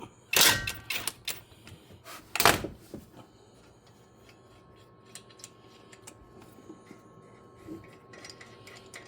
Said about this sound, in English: And this is a small 1/2 inch impact. Just to loosen them up.